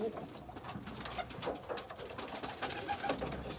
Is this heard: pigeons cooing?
yes